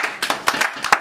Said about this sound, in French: Monsieur et madame Paco, je vous applaudis